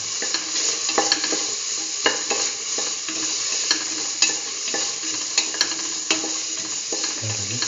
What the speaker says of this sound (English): Put in the tomato pieces. Sometimes mix the tomato pieces.